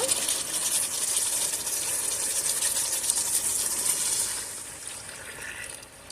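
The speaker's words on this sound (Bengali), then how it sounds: "এবার ঝোলের পানি দিয়ে দিব" Water goes into a simmering pot of country chicken curry with chui jhal and taro to make gravy, a loud hissing, steamy pour that holds steady for about four seconds and then fades.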